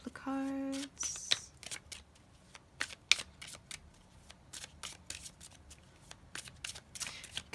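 Tarot cards being shuffled close up in quick riffling bursts and soft flicks, with a short tonal sound at the start and no speech.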